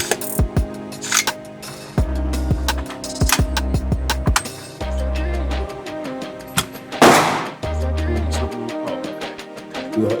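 AR-15 rifle chambered in .300 Blackout fired outdoors, with a few sharp, loud reports spaced apart among low rumbling background noise and brief mechanical clatter.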